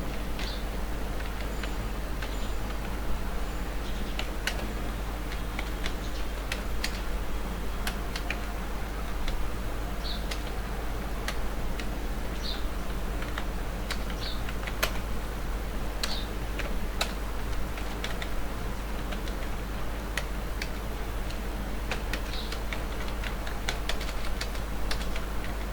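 Someone typing an address on a computer keyboard, faint steady key clicks in an irregular patter over a constant low hum, no talking.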